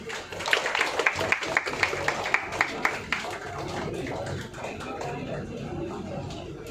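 An audience claps at an award ceremony, a crisp run of separate hand claps that is briefly steady and then thins into a softer, scattered patter in a moderately reverberant hall.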